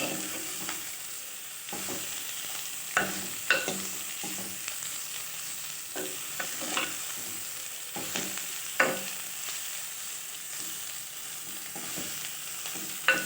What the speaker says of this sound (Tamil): பாகக்காய் கொஞ்சம் எண்ணெயில் வதங்கட்டும்.